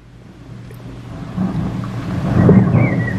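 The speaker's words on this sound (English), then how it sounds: "It's producing lots of rumbles of thunder." Low thunder from a strong thunderstorm in Bradford, UK, rumbles and swells, growing louder over a few seconds, with a faint high whine near the end.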